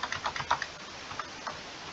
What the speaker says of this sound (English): I'm going to go ahead and type in our numbers to get started.